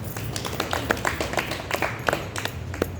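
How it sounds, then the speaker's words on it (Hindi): Scattered, uneven clapping from a small audience applauding a child, individual claps standing out sharply over a low background hum. "एक बार इस बच्चे से ताली बजाओ"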